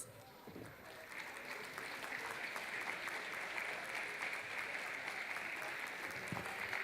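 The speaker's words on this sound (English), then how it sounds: "So can we please invite, with a massive round of applause, our soccer committee and chair, Isa, to award the soccer awards." A crowd at the RoboCup finals applauds the soccer committee and its chair, the clapping swelling from a moderate start into sustained, dense applause.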